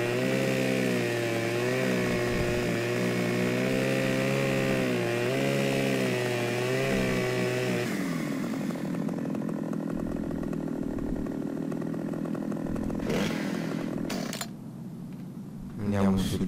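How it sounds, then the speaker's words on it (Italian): Chainsaw cutting: a loud, steady engine drone with a tone that shifts slightly as it cuts, then drops to a rough idle midway, followed by a brief revving burst near the end. "Il tasto per tagliare questo giro di motosega e via."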